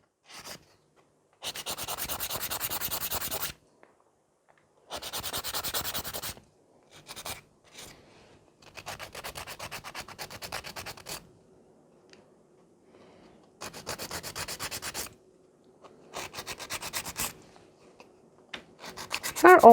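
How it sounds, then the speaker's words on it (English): Nail file rasping across gel nails in repeated short bursts of rubbing strokes separated by pauses, close and fairly quiet, with no talking. "So I'm always filing it nice."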